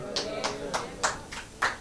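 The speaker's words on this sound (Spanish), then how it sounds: "Si van a aplaudir, apláudanle fuerte para el Señor" Church congregation clapping for the Lord, about six steady claps in an even rhythm, somewhat distant and soft over a faint background murmur.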